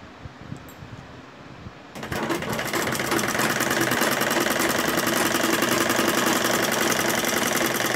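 Sewing machine stitching along the edge of fabric for a baby's garment, starting after a quiet moment and then running as a steady, loud, continuous mechanical whir with rapid needle rattle until the end.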